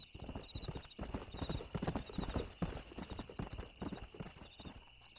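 Horse hooves clip-clop steadily and loudly in a fast, busy rhythm in Red Dead Redemption, heard after a stallion is given as a gift, with a faint whinny and a steady high tone running underneath.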